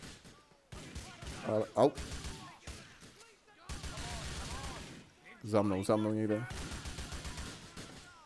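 Gunfire in the video game GTA IV comes as scattered bursts of shots at moderate distance, mixed with game noise while someone talks over it in Czech.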